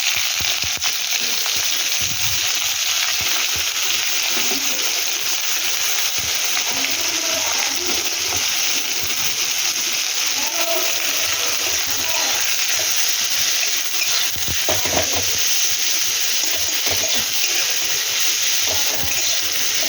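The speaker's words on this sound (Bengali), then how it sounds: "পেঁয়াজটা ভেজে ফিরছি বন্ধুরা" Onions frying in a pan after potatoes have been fried in it, a loud continuous crackling sizzle with occasional stirring scrapes throughout.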